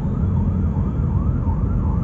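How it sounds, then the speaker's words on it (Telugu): An ambulance siren wails in heavy city traffic, its rising and falling tone sitting over a loud rumble of engines and road noise. "అంబులెన్స్ వస్తాయి, పోయింది."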